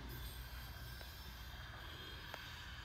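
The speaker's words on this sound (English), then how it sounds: "So sound of the railroad tracks" Railroad track sounds played back as part of a sound art piece: a continuous rumbling, hissing rail noise with high squealing tones and a couple of faint clicks, steady and fairly quiet throughout.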